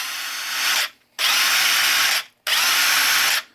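Bosch cordless impact wrench running in three long bursts, each a loud, close, high-pitched whir with short silent pauses between them, no talking.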